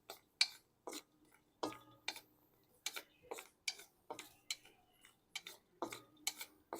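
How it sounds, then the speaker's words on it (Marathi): Cashews being dry-roasted in a pan for a Vidarbha-style green chilli curry, a spatula scraping and clicking against the metal in a steady run of sharp, evenly spaced strokes, close and fairly quiet with no talk. "आता मी काजू भाजू राहिलो."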